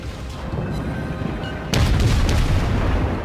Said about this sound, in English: you've got this many ships coming after you, firing every possible kind of weapon at you